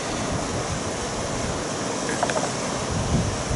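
Wind buffeting across a beach by Walton pier, a constant rough rushing roar with faint surf beneath and brief gust bumps.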